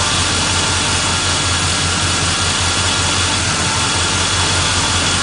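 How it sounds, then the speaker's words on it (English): A car engine fitted with a Unichip tuning module runs steadily with timing advance applied, a loud continuous idle with a low droning hum and broadband roar throughout. "you'll probably also hear a change in the way the motor's running right now"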